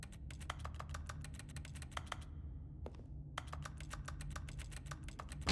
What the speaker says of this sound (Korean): 이 게임 희한한 게 클릭하면 키보드 소리 나요